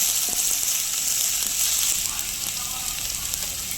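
Onions with ginger-garlic paste sizzle steadily in a pan for pepper chicken, a constant bright frying hiss with faint stirring scrapes, close and alone.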